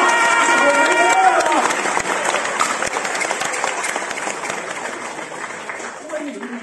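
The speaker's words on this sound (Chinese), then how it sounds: "鼓掌啊，鼓掌啊" Live audience applause during a crosstalk performance at Guangde Tower theatre, dense steady clapping throughout with a sung voice and speech over it at the start, gradually tapering slightly toward the end.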